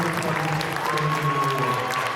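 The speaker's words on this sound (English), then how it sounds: "please join again in applause for Laney Clement Holbrook" High school basketball playoff crowd in a gym applauds an award recipient, steady clapping of many hands with a sustained tonal hum and faint chatter mixed in.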